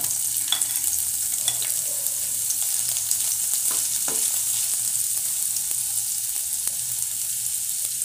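Sliced garlic and ginger fry in a pan for mixed vegetable Manchurian, a close, steady sizzle with occasional light stirring clicks throughout.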